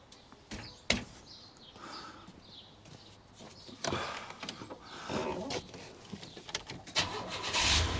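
A truck raised on a jack, with a leaking brake line, cranks and starts up, with sharp clicks and clunks before a rougher, louder burst of engine noise toward the end.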